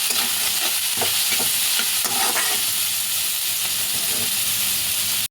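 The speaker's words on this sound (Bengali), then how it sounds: "ব্যাস, এটাকে নেড়ে নেব।" Vegetable noodles sizzle steadily in a hot pan after salt and pepper go in, with repeated stirring scrapes and clatters over continuous frying hiss, close and fairly loud, no talking.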